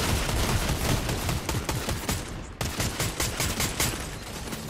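Dense Fortnite gunfire crackles in a continuous fusillade, overlapping shots and rapid automatic bursts filling the whole stretch with a brief dip midway before the shooting resumes.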